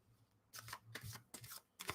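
Oracle card deck being shuffled by hand, several quick crisp riffles of cards in separate bursts, close and quiet, with no talking.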